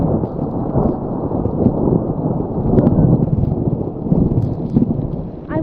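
Thunder rolls and rumbles deep and loud during a storm at Sunday River ski resort in Maine, a long continuous growl that swells and fades, with rain hissing underneath.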